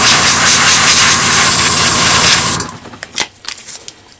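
An airbrush sprays thinned, watered-down paint for skin tone with a loud, steady hiss for about two and a half seconds, then cuts off into quieter clicks and handling noises.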